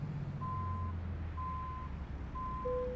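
In American Truck Simulator, a truck backs up while its reverse alarm sounds three steady, evenly spaced beeps over a low engine idle, followed by a slightly lower tone at the end.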